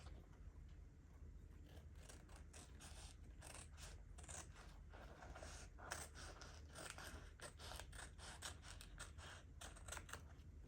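Paper trimmed with scissors while assembling a junk journal, a steady run of quick, close snips and crisp cuts repeating throughout, quiet and without talk.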